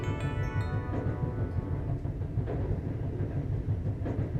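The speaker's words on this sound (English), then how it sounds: "The train continued tirelessly through the darkness." A train runs on rails through the night in a steady, continuous low rumble, with a faint rhythmic rattle and clatter of the cars throughout and no talk.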